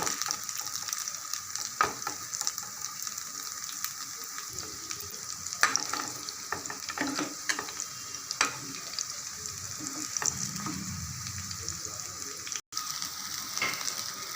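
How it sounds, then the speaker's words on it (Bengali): Prawn fritters (chingri bora) fry in hot oil on low heat, giving a steady close sizzle with scattered pops and scrapes as they are turned over in the pan. "বড়াগুলো আমি উল্টে পাল্টে ভেজে নেব।"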